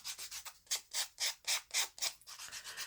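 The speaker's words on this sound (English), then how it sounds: "I'm just going to go around each one of these charms and just sand away, distress really, my edges on both sides." Paper journal charms are sanded around their edges on both sides, a rhythmic series of rasping strokes, close and fairly quiet, with no voices.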